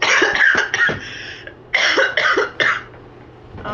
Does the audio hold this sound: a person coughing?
yes